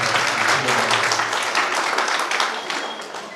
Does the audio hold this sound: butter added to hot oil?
no